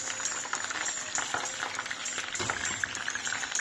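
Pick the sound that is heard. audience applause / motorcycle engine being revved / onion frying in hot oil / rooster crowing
onion frying in hot oil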